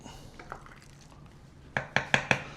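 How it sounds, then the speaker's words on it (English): A spoon stirs a pot of detox tea just taken off the heat, with a few soft scrapes and then four quick, sharp metallic clinks against the pot, close by and fairly loud. "cut that heat, stir it up nice and right"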